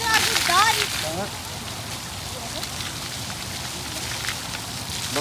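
Steady rain falling on surfaces at an outdoor zoo in Manila, a continuous hiss and patter, with people talking and laughing over it at the start.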